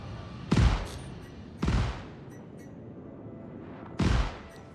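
Ship weapons on the F8C Lightning fighter in Star Citizen fire three separate heavy blasts, each a sharp booming report with a decaying tail, spaced irregularly over a steady low background hum.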